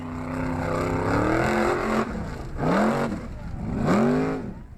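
A formula offroad car's engine revs loudly and close in repeated surges, its pitch climbing and falling in about three bursts, at an Icelandic formula offroad competition.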